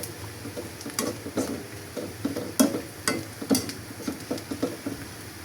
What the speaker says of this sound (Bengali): আর এখানে বেরেস্তা করছি, পেঁয়াজ বেরেস্তাগুলো হয়ে গেছে, এখন তুলে নিচ্ছি।